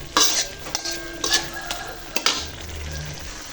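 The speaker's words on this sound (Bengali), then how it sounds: "এই যে ধুন্দুল দিয়ে দিচ্ছি" Sponge gourd goes into a hot pan with spices and fried fish and is stirred: steady sizzling and frying with sharp metallic clinks and scrapes of a spatula against the pan, close up, with no voices.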